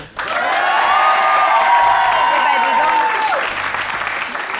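A studio audience bursts into loud, sustained applause with cheering, a dense clatter of clapping that swells at once, holds for about three seconds, then thins out.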